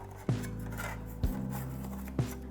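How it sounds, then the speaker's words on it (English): A flat spatula run around the sides of a loaf pan of orange spice bread to release it, three distinct scraping strokes with low thuds, quiet and close. "Just kind of run like a flat spatula."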